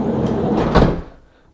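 A Volkswagen T5 camper van door, freshly fitted with sound-deadening insulation, shuts with one solid close, a dull thud that dies away quickly.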